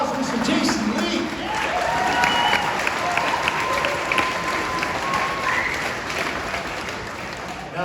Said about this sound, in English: Give a huge round of applause for Mr. Jason Lee.